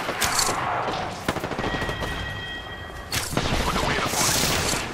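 Rapid bursts of Apex Legends gunfire crackle loudly and repeatedly, with heavier booming volleys near the end and a voice talking over the shooting.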